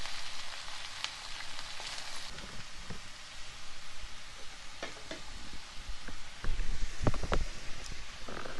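Onions and curry leaves fry in oil with mustard and cumin seeds, giving a steady soft sizzle with scattered small pops and crackles and occasional stirring scrapes, close and moderately quiet, no voices.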